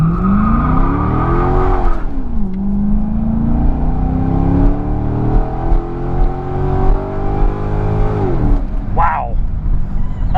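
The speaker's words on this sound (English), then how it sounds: "let's just give it a little gas," A 2001 Mercedes S600 pulls away from a stop sign, its engine revving up in a clear climbing sweep, dropping with a shift, then building again in a long smooth pull, close and loud, with a person talking in the car.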